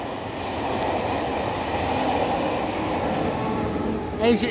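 A TGV passes on the railway near the Paris RER D line at Maisons-Alfort, giving a loud, steady rush of rolling noise that lasts the whole stretch and ends with a brief high squeal.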